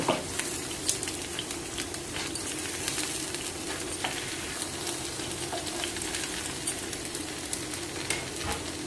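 Dosa batter cooking in a pan over a high flame, giving a steady, close sizzle and faint crackle throughout with small clicks and taps now and then; no one speaks.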